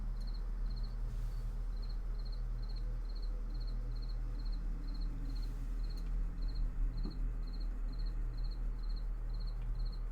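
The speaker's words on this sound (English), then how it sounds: "I don't know if you guys can hear the cricket. I imagine you can, but the cricket is going crazy." A single cricket chirping in rapid, evenly spaced bursts that repeat steadily and clearly over a low background hum, with no voices.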